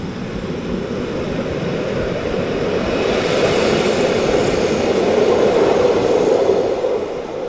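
A train at Ospizio Bernina station in the Swiss Alps rumbles steadily with a broad, rushing roar that swells slightly and then eases off, with no voices present.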